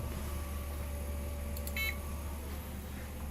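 Short electronic beeps from a CNC machine controller after an emergency stop, sounding briefly over a steady low machine hum and room noise.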